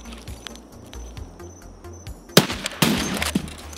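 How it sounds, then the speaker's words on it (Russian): Video game gunfire: after a quiet stretch of ambient hum, two sharp bursts of shots crack out close together near the end, loud against the background. "Надо идти на эти выстрелы обязательно."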